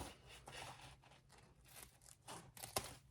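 Scissors snip off the excess end of a navy zipper on a handmade tote, a few quiet crisp cuts and rustling scrapes of fabric close up, with one sharper snip near the end.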